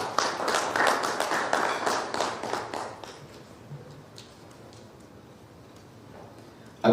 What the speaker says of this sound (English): I will ask for a better round of applause for our chair